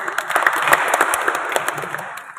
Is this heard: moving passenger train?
no